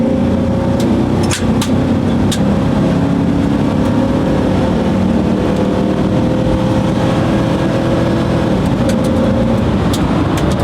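A GMC Sierra pickup truck accelerates at full throttle, its engine a loud, steady roar with a constant droning hum and road noise filling the whole stretch, heard from inside the cab.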